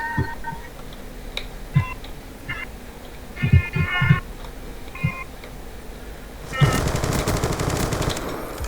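Gunfire in a Black Ops 2 one-on-one match: scattered single shots and short bursts, then a sustained loud automatic volley near the end, with game effects between and no speech.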